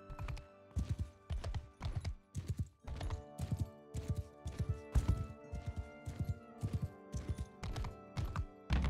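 Horse hooves clip-clop steadily in Mount and Blade II: Bannerlord, a regular run of close, distinct hoofbeats with no talk over them.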